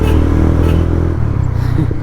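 Mahindra Mojo motorcycle engine running close up with a steady, loud rumble and slight revving, the low throb continuous throughout with faint clatter.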